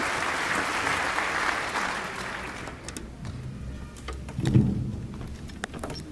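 Audience applause welcoming a speaker at a lecture on racism and genetics, a moderately loud, even patter that fades out after about two and a half seconds, leaving a quiet room with faint scattered noises.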